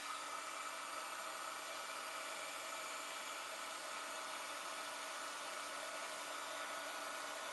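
A handheld heat tool blows steadily to dry red ink on a card, a constant close whooshing whir like a hair dryer running without pause.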